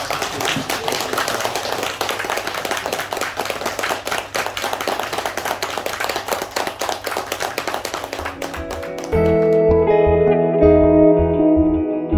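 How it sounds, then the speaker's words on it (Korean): An audience at a lecture applauds steadily to welcome the speaker and his interpreter, the dense clapping echoing in the hall before music begins near the end. "우리 두 분을 박수로 모시겠습니다"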